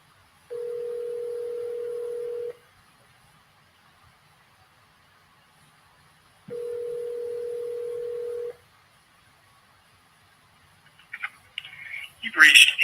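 Two steady telephone dial tones, each about two seconds long and separated by a pause, from an auto-dialer call, followed at the end by a quick burst of dialing clicks and tones.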